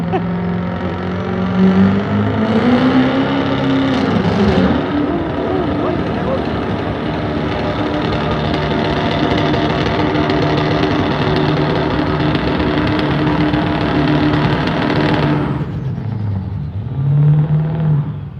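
Pulling trucks run up and down the unfinished side of a pulling track at a truck pull in Carrollton, Ohio, their loud engines roaring and revving steadily for about fifteen seconds before easing off, with voices mixed in.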